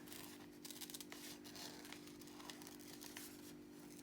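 Scissors snip repeatedly through paper while fussy cutting around a figure's wings for a junk journal, a close run of quick, quiet crisp cuts over a steady low hum.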